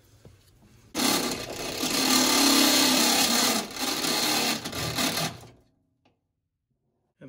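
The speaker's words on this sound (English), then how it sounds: "finish bringing it out with this step bit from the inside" A step bit drills a hole from the inside of a 1973–79 Ford F-series truck door, a steady loud grinding whir that runs for about four and a half seconds, dips once midway, then stops.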